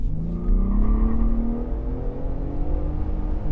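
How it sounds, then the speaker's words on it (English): Tires on a truck hum and whir over the road as it drives in two-high, sitting under a steady engine drone whose pitch slowly rises. The sound is continuous and close, with no one speaking. "Tires making a little bit of sound there too."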